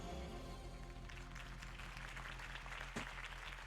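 Crowd applause and cheering after a campaign speech for Harvey Dent in the Batman Telltale video game, a steady dense clapping wash that holds throughout with a brief louder burst near the end.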